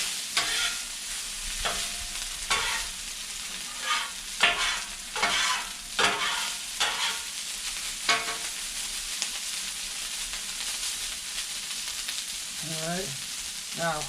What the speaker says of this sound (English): I want it to brown. I want it to crisp up. I want it to fry.